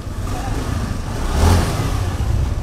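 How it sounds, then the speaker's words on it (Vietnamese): Ford Everest engine idling close by in a steady low rumble, swelling briefly midway as if lightly revved, then settling back to an even idle. "Máy nổ thì thầm mùa xuân."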